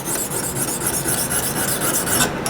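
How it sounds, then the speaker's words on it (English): A knife blade strokes steadily back and forth across a Lansky sharpening stone, producing a continuous loud, close gritty rasping with rhythmic pulses from each stroke and no voices. "you want to cut on the forward stroke"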